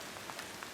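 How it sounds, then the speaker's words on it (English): Rain falls at a woodland campsite in the morning, a dense, steady patter with a few individual drops standing out, heard alone without talk. "we woke up this morning to some rain"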